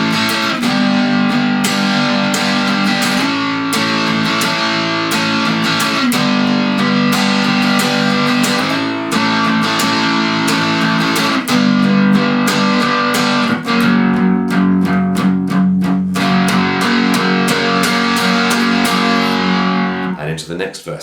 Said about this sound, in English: You've got a lot of distortion on your guitar.